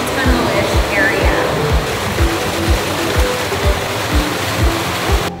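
Waterfall in a tunnel area in San Miguel de Allende, a loud continuous rushing roar of falling water with a rhythmic low thumping pulse beneath, steady throughout.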